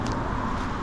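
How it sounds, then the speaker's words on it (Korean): Cars pass on a coastal roadside: a brief, steady low rumble of traffic, moderately close and unbroken. "지금 차 소리 들리죠?"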